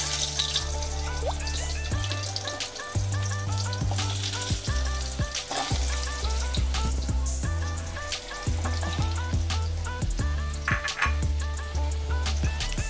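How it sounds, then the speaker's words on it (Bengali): Potato pieces fry in the oil left over from frying katla fish, with a loud, continuous sizzle, occasional stirring and clattering as the pieces are turned, and no voices. "এই মাছের তেলেই কিন্তু আমি আলু ভাজছি।"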